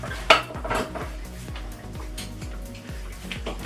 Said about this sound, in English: So, let me grab some spoons. And our cases.